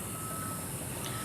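Dump truck reversing beeps cutting through a residential neighborhood as a steady high-pitched alarm tone over constant low traffic rumble, moderately distant.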